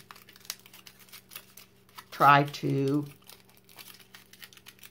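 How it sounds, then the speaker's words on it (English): A sheet of tin foil lightly crumpled by hand, giving faint, scattered crinkling crackles close by, with a brief spoken phrase in the middle. "take a piece of tin foil and just lightly crumple it"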